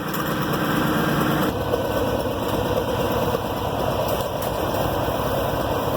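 A Farmall 706 tractor engine idles steadily nearby, a constant low rumble with a rattling hum that shifts slightly in pitch partway through; no voices.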